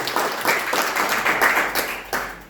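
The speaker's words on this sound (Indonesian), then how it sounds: "Beri tepuk tangan dulu buat Tuhan Yesus." Church congregation clapping in praise at a Sunday worship service, a dense, fairly loud wash of many hands with slight surges and no voices over it.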